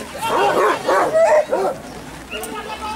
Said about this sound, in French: Le chien, il est là